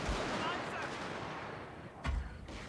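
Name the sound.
musket volley fire in Shogun 2: Total War video game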